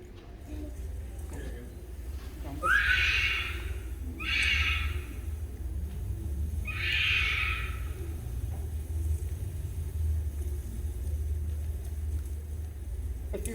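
A bobcat gives three harsh, screaming yowls like a woman screaming, two close together and one after a pause, over a low rumbling background at a wildlife event.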